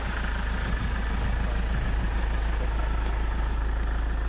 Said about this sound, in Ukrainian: Приїхав евакуатор